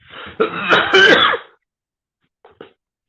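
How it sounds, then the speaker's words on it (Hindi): A loud, rough throat-clearing cough lasts over a second, then after silence come two faint short follow-up sounds. "खांसी हो गई है।"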